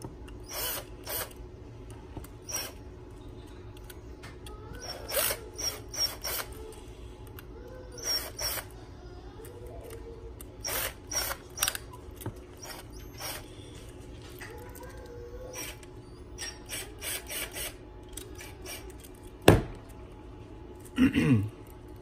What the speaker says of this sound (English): first I'm going to loosen all the screws